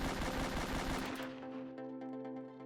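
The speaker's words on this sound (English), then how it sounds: "Look at how fast I'm going to shoot off these 8 rounds." Colt M1911 pistol in the Roblox ERLC roleplay game emptying eight rounds in quick succession, a loud rapid string of shots lasting about a second, followed by a ringing tonal tail and quiet.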